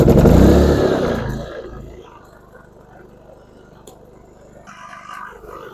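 A PowerSmart PS5045 inverter generator starts with a loud close burst of engine noise, then settles within a couple of seconds into a steady, lower running hum that swells slightly again near the end.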